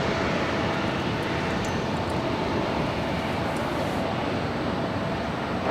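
An airliner takes off from runway 24 left at Los Angeles International Airport, a broad steady engine roar holding at a constant level throughout, with no voices over it.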